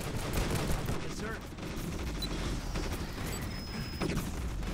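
Troopers firing in the Starship Troopers: Terran Command strategy game, a dense continuous fusillade of gunfire with low booms, steady under faint game noise and radio chatter.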